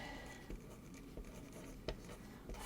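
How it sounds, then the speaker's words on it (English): Soft scratching of a pen or pencil writing on a scrap of paper, brief strokes with a few light taps, quiet and close. "take a scrap of paper and write down"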